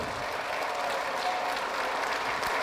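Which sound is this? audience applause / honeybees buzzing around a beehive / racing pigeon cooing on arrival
audience applause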